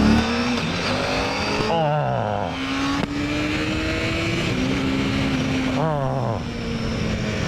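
A 600cc inline-four sport bike, an F4, revs hard nearby, its high-pitched engine climbing and dropping through several throttle sweeps with sharp gear-change dips, loud and continuous throughout.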